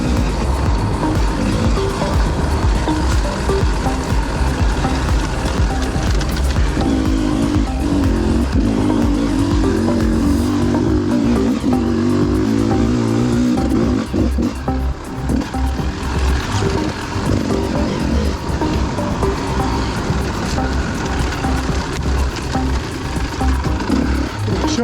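Enduro motorcycle on a prologue lap at the Tenterfield Terror hard enduro, its engine loud and continuous throughout, revving and easing with rising and falling pitch as it climbs and maneuvers, with no talk heard.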